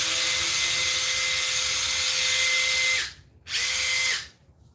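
A Makita XGT cordless blower roars with a strong, steady high-pitched whine at close range, cuts out briefly, then surges once more before spinning down to silence.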